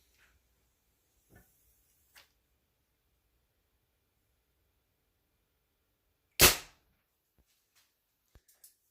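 A single sharp arrow release from a Mathews Z7 Xtreme compound bow cracks out loud and close, preceded by a few faint clicks and followed by quiet.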